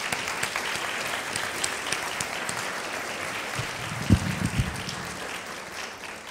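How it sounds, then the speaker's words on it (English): Sustained audience applause after a distinguished lecture on the opioid epidemic, steady and fairly dense, with a few louder claps near the end. "Let's have another round of applause for Dr. Roy."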